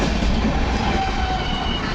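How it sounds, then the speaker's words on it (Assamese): A Mumbai local train running, with loud, steady rumble and rolling wheel noise close by throughout, no voices. "আৰু এইখন হৈছে লোকেল ট্ৰেইন"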